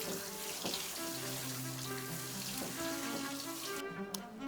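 Water running steadily from a bathtub faucet into the tub, a continuous splashing hiss with some tonal gurgling and occasional drips, close by.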